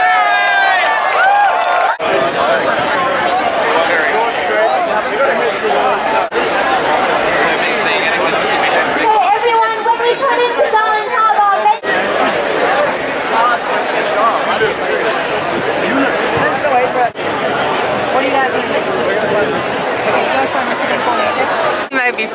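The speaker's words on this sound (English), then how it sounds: "Biggest crowd I've ever been, which is good." Loud, dense chatter and cheering from a large crowd at a marriage equality rally in Australia, continuous babble with occasional whoops and brief breaks.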